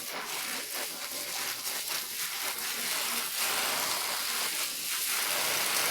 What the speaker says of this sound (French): Nous allons aussi faire sauter l'oignon pour qu'il devienne doux